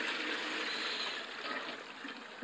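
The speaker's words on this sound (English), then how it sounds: "Now I'm filling up the smaller of the plastic tanks." DEF fluid pours steadily into the smaller plastic tank of a BMW 335d, giving a continuous close trickling stream that gurgles slightly and softens toward the end.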